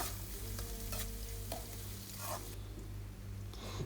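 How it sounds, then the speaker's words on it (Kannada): Chillies and finely chopped onion fry in a pan with a steady, close sizzle and a few stirring scrapes, no voices. "ಆಮೇಲೆ ಒಂದು ಆನಿಯನ್ನ ಸಣ್ಣಗೆ ಹೆಚ್ಚಿ ಹಾಕ್ಕೊಳ್ತಾ ಇದ್ದೀನಿ. ಇದನ್ನು ಜಸ್ಟ್ 1 ನಿಮಿಷ ಫ್ರೈ ಮಾಡ್ಕೊಳ್ಳಿ."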